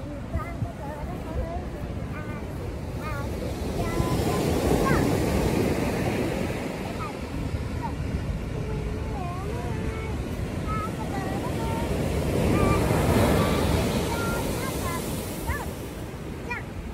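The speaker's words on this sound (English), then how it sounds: "These are some fierce waves." Heavy surf roars and crashes continuously, swelling louder twice, with wind buffeting the microphone and no clear talking.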